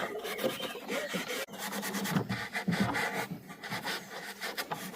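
Wax rubbed onto woodworm-damaged wooden cottage furniture, a close, steady scratchy rasping in quick back-and-forth strokes with one brief pause, no talking.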